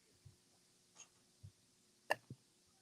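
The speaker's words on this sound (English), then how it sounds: "And the hiccups? I'm sorry." A person gives several soft, separate hiccups in an otherwise quiet room. They come irregularly over a few seconds, and one sharper hiccup stands out near the end.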